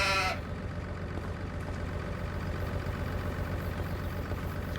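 Sheep bleat in the farming game Farming Simulator 25, a short bleat at the start and then a steady idling engine hum that continues underneath.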